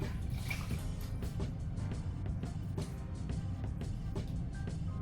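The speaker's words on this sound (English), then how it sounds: "I'm gonna dip it in soapy water" A small rag dipped and swished in a basin of soapy water, with a steady wet sloshing and faint drips close by, and no voices.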